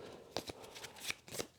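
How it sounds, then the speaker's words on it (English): A deck of cards is shuffled by hand during a tabletop game, with quiet, crisp riffling bursts in a loose rhythm of several short flurries, close and soft. "Shuffle the deck."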